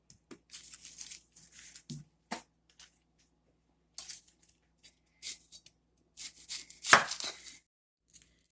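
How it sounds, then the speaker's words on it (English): A knife slices three medium onions on a cutting board for Portuguese bacalhau à brás, giving sparse, irregular crisp chops with short pauses, close and fairly quiet, with no talking. "Eu vou-las cortar às rodelas ou aos quartos, como que vocês quiserem."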